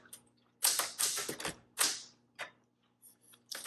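A 1976 Classic 12 typewriter being typed on, with bursts of crisp key strikes and clacks separated by short pauses, close and fairly quiet, with no voices.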